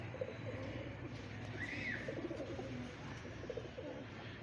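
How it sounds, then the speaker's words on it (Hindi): A Yakut pigeon kept by a hobbyist gives faint, soft cooing under a busy, noisy background, with one brief clearer call near the middle. "ये याकूत कबूतर है मेरे"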